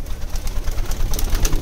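A Madrasi pigeon coos in short, soft repeated calls close by, with a low murmuring tone and no talk over it.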